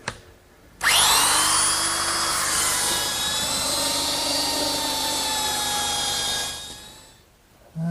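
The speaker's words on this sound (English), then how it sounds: "I can't use the joiner, but I can use my belt sander." Electric belt sander working two wooden garden bench members clamped in a vise, starting abruptly into a loud steady whining drone with gritty abrasive hiss, holding for several seconds before winding down, then restarting briefly.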